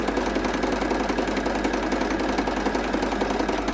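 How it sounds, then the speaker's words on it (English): Sewing machine running a back stitch across fabric strips for binding, a fast steady mechanical whir and chatter, close and continuous without pause. "And just do a little bit of a back stitch and make sure that you stitch on that line."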